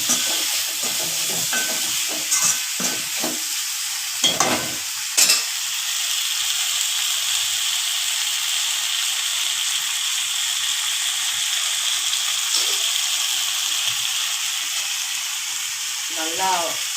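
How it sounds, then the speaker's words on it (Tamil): Raw banana (vaazhaikkai) slices fry in a pan and hiss loudly after a light sprinkle of water, a steady bright sizzle with occasional stirring clatter and bursts of steam, with no talking. "ஒரு 2 டேபிள் ஸ்பூன் கொஞ்சோண்டு தண்ணி லைட்டாக தொளிச்சு விடுங்க"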